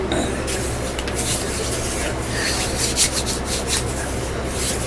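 Dry hands rub together close up, making a steady, loud, rasping friction sound like sandpaper that continues without a break for several seconds.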